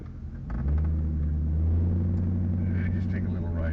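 A Chevrolet Corvette C4 drives along and makes a quick turn, its engine a steady, close, loud low rumble that swells after the first half-second and holds through the turn, with faint road noise above.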